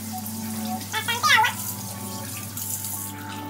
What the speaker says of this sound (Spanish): vamos a lavarnos las manos bien lavadas